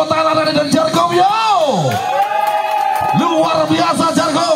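Volleyball supporters at a men's volleyball tournament cheer and applaud loudly, a crowd roar with whoops and shouts running throughout, while an announcer's voice bellows over the noise with a rising and falling call.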